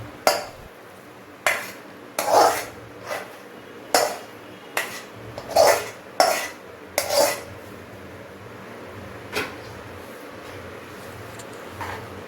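A spoon scrapes and clinks against a pot while a ragda mash of cooked peas is stirred, giving about a dozen sharp metallic knocks at an uneven pace, close and alone.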